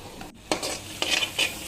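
Onion and crushed cumin paste frying in a hot pan, with a steady sizzle broken by a few sharp stirring scrapes at regular intervals.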